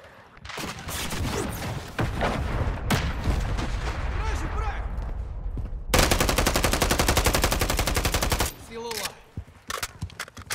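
Video game gunfire in Call of Duty Modern Warfare 3, dense loud bursts of automatic fire and rapid shots, ending in a long sustained machine-gun stream before scattered single shots, with a voice talking in places.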